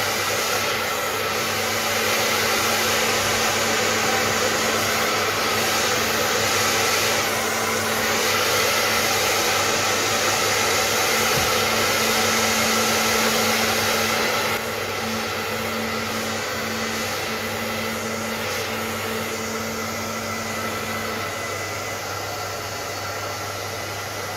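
A heat gun blows hot air to shrink the covering on a vintage Mercury IV RC model plane, a loud, steady whooshing roar with a faint hum that runs unbroken and dips slightly partway through, with no talking.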